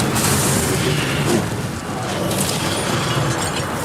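Incendio fire spell cast in Hogwarts Legacy, a dense, roaring burst of flame with a booming rush that fills the whole moment, loud and steady with a slight surge near the start.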